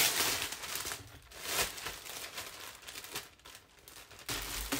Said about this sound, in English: So let me unwrap this for you.